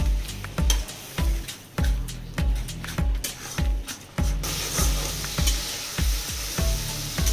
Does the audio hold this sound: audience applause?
no